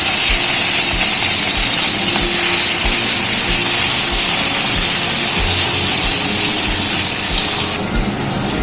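Marinated rohu fish fry in hot mustard oil, a loud, continuous, close sizzling hiss with faint small pops running steadily throughout.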